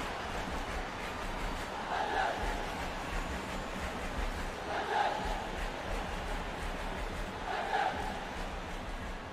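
A stadium crowd in the video game FIFA 19 roars in a steady, dense wash of cheering after a goal, swelling in a few recurring surges.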